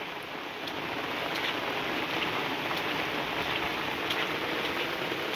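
Heavy rain falls in front of a house in Uttarakhand while water streams past, a dense steady hiss with scattered drops tapping close by.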